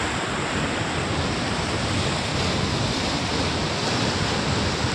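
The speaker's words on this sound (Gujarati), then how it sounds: "કેવો મોજા ઉછળે છે" Ocean waves crash and roar continuously, a loud broad wash of surf with wind noise and no pause.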